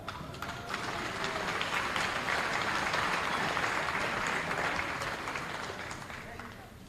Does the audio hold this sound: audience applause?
yes